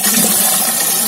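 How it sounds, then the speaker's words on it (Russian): Water gushes steadily and loudly into a bucket to top up a garden soda solution meant for treating roses, a brief continuous rushing fill heard up close with no talk. "Доливаем до 10 литров водой."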